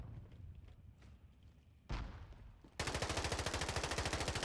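Automatic gunfire in the video game Warzone, starting faint and distant, then a sudden loud burst and a steady rapid machine-gun stream close by, with no talk over it.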